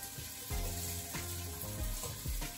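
Rice sizzles in a pan as it is stirred for a Puerto Rican dish, a steady close frying hiss broken by several low scraping strokes of the spoon, with no voices.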